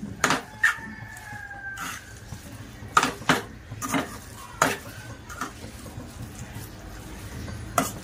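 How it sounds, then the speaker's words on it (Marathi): Vegetable noodles being stir-fried in a pan, with sharp spatula scrapes and clanks against the metal at irregular intervals over a low, quiet background. "हे सर्व नूडल्स आहेत ते एकत्र चांगल्या मस्तपैकी परतून घ्यायचे आहेत"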